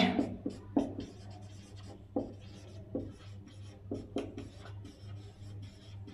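Chalk or marker writing on a board during a spoken English lesson, a string of short scratchy strokes in irregular bursts over a steady low hum, close and moderately loud, no talk.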